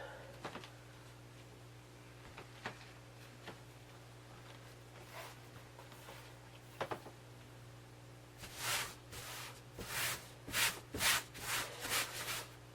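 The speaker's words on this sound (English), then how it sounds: "So that noise you're hearing is me rubbing" Soft rubbing and swishing of paper between napkins by hand, faint at first, then growing into a steady series of scratchy strokes in a quiet room.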